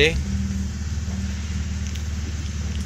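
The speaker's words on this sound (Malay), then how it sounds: "kita start engine kemudian kita mainkan gear satu kemudian gear 2 kita test" A Proton Wira engine runs nearby at a low, even idle with a rumbling throb, during work on a leaking driveshaft oil seal, while someone talks over it.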